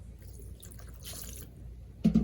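Water is poured and sloshed onto an Acer Chromebook laptop in a durability test, with faint trickling and dripping that ends in a couple of louder splashes near the end.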